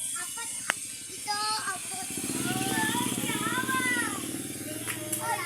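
A motorcycle passes by outdoors, its engine hum rising and lingering in the background as children talk and shout over it.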